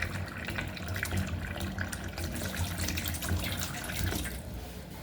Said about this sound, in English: put that cup on the tap and open the tap